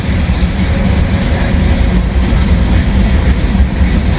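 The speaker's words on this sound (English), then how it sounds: "I'll show you once this train passes what I'm talking about" A train rumbles past at close range in Kentucky, its steady low roar and faint rhythmic wheel clatter continuing without a break throughout.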